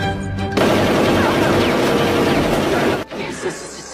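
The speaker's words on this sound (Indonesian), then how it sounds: "saat semua sibuk tembak-tembakan" Rapid gunfire from an action movie shootout scene in a Jackie Chan film, a dense, loud barrage of shots lasting about two and a half seconds, then breaking off into quieter bursts.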